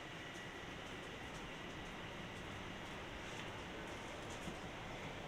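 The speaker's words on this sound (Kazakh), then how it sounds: "Метроның іші кәдімгі метролар." A subway train in a Toronto metro station rumbles as a steady, broadband roar with faint rattling, heard at moderate distance and continuous for the whole stretch, with no talking.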